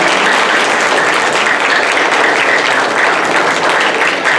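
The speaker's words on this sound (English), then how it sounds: "now kids, let's clap for our parents" Children at a beginning band concert clap for their parents, a loud, sustained round of dense applause that holds steady throughout.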